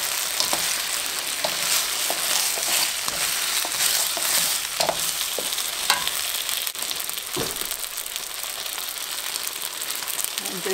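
Ginger orange chicken stir fry with veggies sizzling steadily in a hot pan, a continuous loud frying hiss broken by scattered clicks and stirring scrapes throughout.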